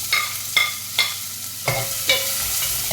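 Sliced onions sautéing in hot oil with chillies, ginger and garlic for a Kerala toddy-shop fish curry, a loud close sizzle punctuated by about five rhythmic stirring scrapes of a spatula.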